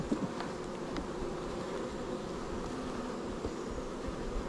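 Honey bees buzz around an open hive during a honey harvest, a steady close drone of many wings that holds constant throughout with no speech.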